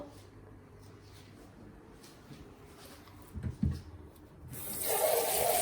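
Tap water runs into a cooking pan while prawn pasta is prepared, a steady splashing hiss that swells and grows louder toward the end, with a few clattering knocks before it.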